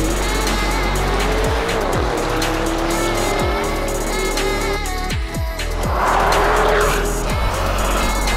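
A blue Lamborghini Urus accelerates hard with a loud, steady engine roar, and its tires squeal sharply several times in a row, sounding close with no talking.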